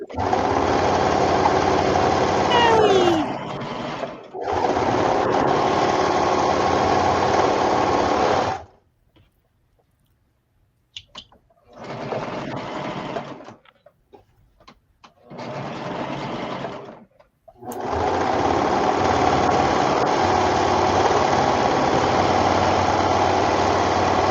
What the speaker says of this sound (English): now it's time to top stitch, Sam.